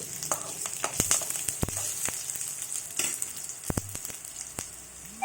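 Coriander seeds roasting in a pan on a lit stove: a soft, continuous sizzle with scattered sharp clicks and stirring taps close by, fairly quiet and without speech.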